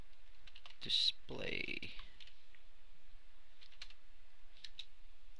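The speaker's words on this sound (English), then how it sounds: "Let's type in members" Light clicking of typing on a computer keyboard, a few sparse keystrokes spread through the clip, faint and close, while a person speaks briefly near the start.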